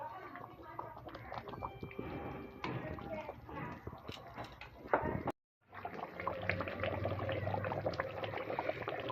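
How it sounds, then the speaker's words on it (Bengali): Pabda fish in mustard sauce bubbling in a pan, a busy crackling, liquid boil with a brief cut midway, while someone talks over it. "এবার আমি ভালোভাবে মাছটা ফুটিয়ে নেব।"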